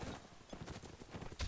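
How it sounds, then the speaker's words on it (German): A horse gallops in the Napoleonic Wars mod of the video game Mount&Blade Warband, with quick, rhythmic clip-clop hoofbeats sounding close over a brief stretch of game noise. "dieses scheiß Pferd rennt weg."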